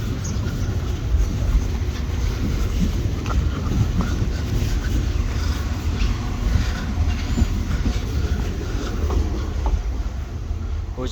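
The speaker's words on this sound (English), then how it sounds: "Oh, there's a train up there." Train rumbling past near a station foot level crossing under construction, a steady close, loud roar of wheels and carriages with heavy wind buffeting the microphone throughout.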